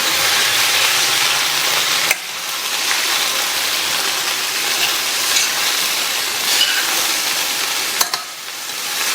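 A rice mixture with chopped coriander leaves fries in a pan over a low flame, giving a steady soft sizzle and hiss broken by a few light scraping stirs.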